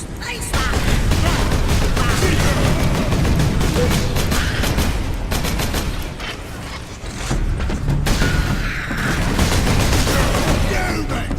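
Bolter fire against orks in Warhammer 40,000: Space Marine rattles in long, loud, dense bursts mixed with mechanical clanks and impacts, with brief lulls and game voices under the din.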